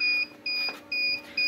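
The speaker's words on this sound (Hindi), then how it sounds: "जैसे तार लगाएंगे तो ये अलार्म ख़त्म हो जाएगा" A Simtik 100A solar charge controller alarm sounds a repeated high electronic beep, four steady on-off pulses at a quick even rhythm, close and clear.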